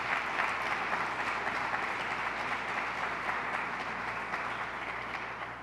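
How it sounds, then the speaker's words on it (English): Faint, distant applause from an audience at a public safety briefing with Governor Kathy Hochul, sustained and even throughout. "Give her a round of applause."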